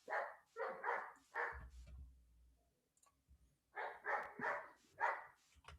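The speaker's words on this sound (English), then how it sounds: "I might have to do something about that dog." A dog barks in two quick runs of four or five barks separated by a pause, moderately distant and fairly quiet, with a low rumble in the gap.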